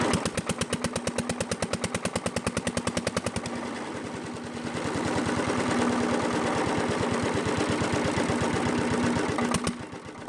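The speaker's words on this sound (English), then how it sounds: "Deutz stationary engines helped mechanize farming and small industries" A vintage Deutz air-cooled stationary engine, a cast-iron farm machine, runs with a steady rapid chugging beat and a constant hum, briefly easing then returning to full strength, loud and close with no speech.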